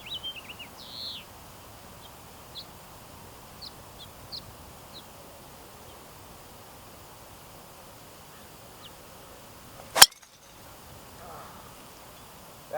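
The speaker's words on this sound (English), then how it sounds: "That was a gross golf swing." A golf club strikes a ball in a single sharp, loud crack partway through a swing on the Pinewood CC course, with soft birdsong and outdoor ambience around it.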